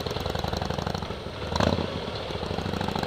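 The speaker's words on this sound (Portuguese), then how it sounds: "Olha esse escapamento" Motorcycle engine with an aftermarket exhaust rumbling on a city street, a loud, steady throbbing roar with a brief swell in the middle, heard up close.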